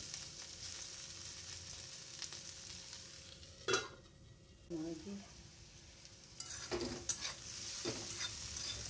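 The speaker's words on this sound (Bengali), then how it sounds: "ঢাকা দিয়ে দিয়ে ভাজলে তাড়াতাড়ি মজে যাবে।" Sliced pointed gourd and split green chillies fry under a lid in a pan, giving a soft, faint sizzle with a few scraping stirs and clinks of a spatula part way through. No one talks.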